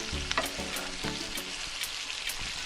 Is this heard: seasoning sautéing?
yes